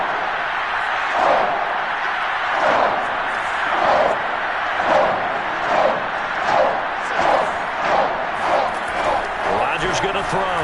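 A football stadium crowd roars ahead of a third down, rising and falling in rhythmic surges of chanting and cheering, loud and continuous across the whole stretch.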